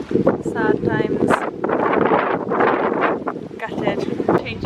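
Wind buffets the microphone at a Maldives resort, gusty rumbling that swells and fades beneath someone talking.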